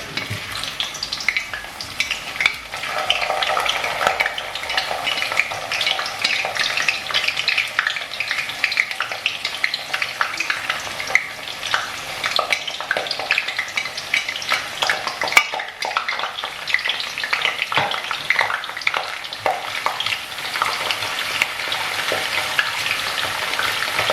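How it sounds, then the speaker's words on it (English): Onions frying in a pan for a chicken feet spinach egusi stew give a loud, steady sizzle and crackle that runs unbroken throughout, with no talking over it. "now that I am coming to add my onion to it"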